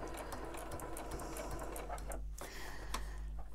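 A sewing machine runs a continuous straight stitch around a felt ornament, a close, steady rapid whirring and ticking with one short pause in the middle.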